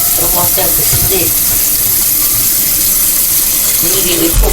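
Water splashes into a hot pan where chicken has been cooking, and the pan gives a loud, steady gushing sizzle. It runs close and continuous, and a voice murmurs faintly underneath.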